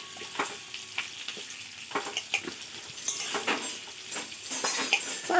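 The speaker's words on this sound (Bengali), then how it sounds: "চলো গাজর আর কাঁচা লঙ্কা একেবারে দিয়ে দিলাম" Carrots and green chillies fry in a pan, giving a close, crackling sizzle with irregular pops and stirring clatters, fairly soft overall.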